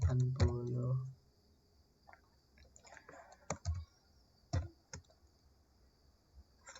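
Sparse, separate clicks from typing on a computer keyboard tap out in small clusters, close and fairly quiet, after a short burst of voice at the start.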